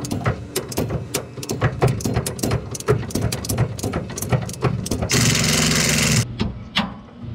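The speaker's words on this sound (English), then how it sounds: "I got my torque wrench here set to 175 foot-pounds, and I'm just going to turn this until the thing lines up again." A torque wrench set to 175 foot-pounds turns a driveshaft bolt on a Ford F100 pickup, giving a steady run of sharp ratcheting clicks at close range, ending in a brief louder burst of broadband noise.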